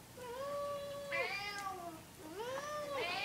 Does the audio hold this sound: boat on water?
no